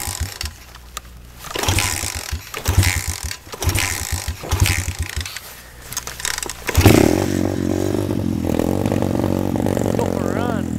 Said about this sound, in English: I have to like warm it up by revving it really high because it doesn't idle when it's like this.